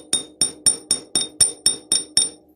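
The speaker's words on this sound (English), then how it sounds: "take my chasing hammer and just texture this piece" A chasing hammer strikes a metal pinecone pendant in a steady series of nine sharp, ringing taps, evenly spaced and close, each with a brief metallic ring, with no talking.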